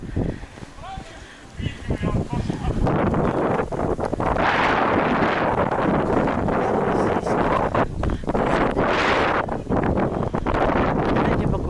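Blizzard wind gusting across the Feodosia seafront, a loud continuous roar buffeting the microphone, with a voice briefly heard under it.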